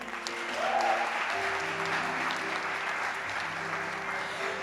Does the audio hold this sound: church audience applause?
yes